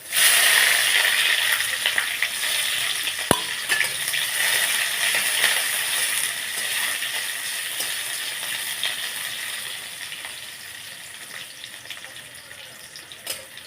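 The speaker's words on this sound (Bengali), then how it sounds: "পেঁয়াজগুলো লাল লাল করে ভাজা হয়ে গেলে এবার দেবো" Onions sizzle and hiss steadily in hot oil with dried red chilli and bay leaf in a home kitchen pan, with a continuous, close frying noise and a sharp utensil clink partway through.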